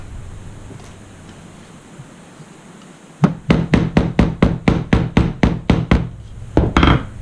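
A small hammer tapping to close metal prongs on a leather lace: a quick run of about a dozen sharp, evenly spaced knocks, close and loud, following a quiet stretch.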